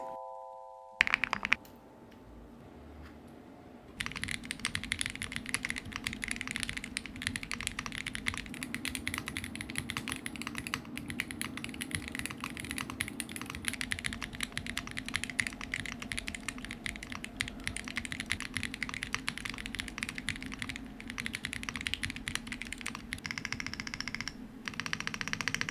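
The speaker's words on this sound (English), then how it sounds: "I'm gonna try out a foamless build to see if the board can handle it, alongside some TTC Tiger switches to achieve a little more clack." Fast, continuous typing on a foamless Bridge75 keyboard fitted with TTC Tiger switches produces close, crisp clacky keystrokes in a dense, uneven rhythm, preceded by a few brief tones and a short pause.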